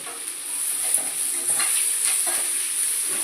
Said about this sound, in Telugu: ఇప్పుడు ఈ స్టేజ్లో కరివేపాకు వేసుకుంటున్నామండి